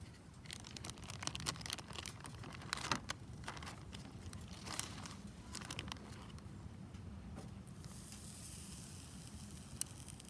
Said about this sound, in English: There are my steaks on the grill.